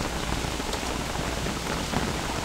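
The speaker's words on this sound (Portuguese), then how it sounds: "Tá chovendo sapo!" Steady rain in the video game Don't Starve during a frog rain, a dense, even hiss of falling drops across the whole stretch, with no voices.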